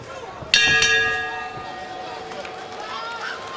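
Boxing ring bell at a WBSS bantamweight semifinal bout, one sharp metallic strike followed by a quick second ring that decays slowly, heard over steady arena crowd noise with commentary.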